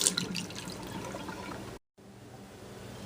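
Water rinsing loosened paint and rust off a metal part, a steady close splashing wash that briefly cuts out and then resumes more quietly.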